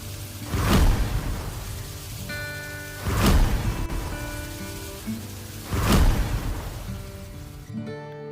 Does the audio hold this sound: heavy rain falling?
yes